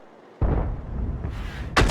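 A heavy tank cannon blast booms out in World of Tanks-style game battle with FV304 and Object 261 artillery, followed by rumbling, then a second loud blast near the end, with battle noise around.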